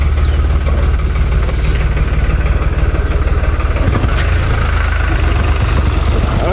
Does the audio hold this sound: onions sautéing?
no